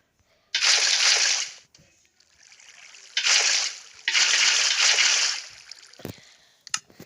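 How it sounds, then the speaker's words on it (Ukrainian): Water poured while building a bunker comes in three loud, close gushes of splashing and rushing, separated by short pauses with quieter trickling and a few knocks. "Тепер ми будемо заливати воду"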